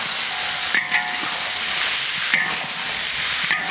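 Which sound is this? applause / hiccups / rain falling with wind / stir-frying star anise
stir-frying star anise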